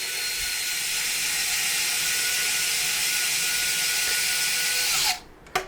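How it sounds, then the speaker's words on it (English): Electric screwdriver steadily whirring as it drives threaded bolts into the body mounts of an FMS Bronco model, a continuous close mechanical whine that stops abruptly near the end. "if you have an electric screwdriver or something, grab that"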